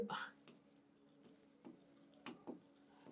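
A marker scratches across a board in short, scattered strokes, close and quiet, with faint, low speech in the background.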